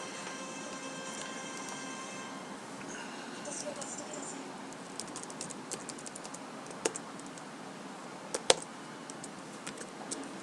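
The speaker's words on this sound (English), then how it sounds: "Now we're going to type it out." Keys clatter on a computer keyboard in a run of light, irregular taps that grow a bit louder and sharper toward the end, close by over a steady background hum.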